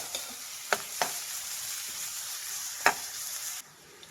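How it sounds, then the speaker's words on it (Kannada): Onions and four dry red chillies frying in a pan make a soft continuous sizzle, broken by a few sharp spoon scrapes and stirring knocks, with the sizzle dropping off suddenly near the end. "ಈರುಳ್ಳಿ ಫ್ರೈ ಮಾಡಿ ಒಂದು 4 ಒಣಮೆಣಸಿನ್ಕಾಯಿ ಹಾಕ್ತಾಯಿದ್ದೀನಿ"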